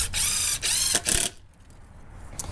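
A power drill pre-drilling wood whirs in three loud bursts, briefly pausing between them, then cuts off leaving quiet room noise.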